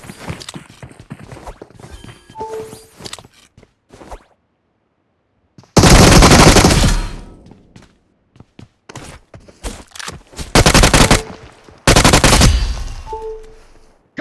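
Bursts of automatic gunfire from a Blizzard video game, loud rapid volleys in three separate blasts split by quieter stretches of game sounds.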